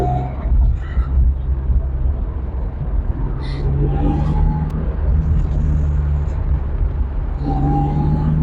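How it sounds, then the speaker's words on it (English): A BMW E36 with an M52 engine gives a low, steady exhaust rumble, close and fairly loud, with brief whirring shifts in pitch. "The exhaust note of a BMW sounds fantastic, especially of these M52 engines."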